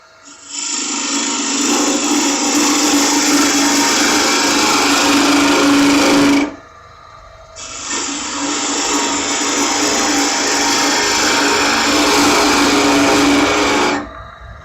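Gouge cutting into spinning wood on a woodturning lathe while making a mallet, a loud, close, steady rasping scrape in two long passes of about six seconds each with a short pause between.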